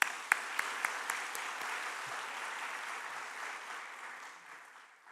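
Applause from a church congregation fills the room, steady dense clapping with a few sharper claps at the start, slowly fading toward the end.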